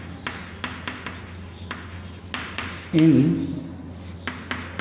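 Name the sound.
writing on a board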